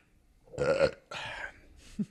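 A man on a podcast lets out a long, voiced belch, loud and close, followed by a second shorter burst and a brief low grunt at the end.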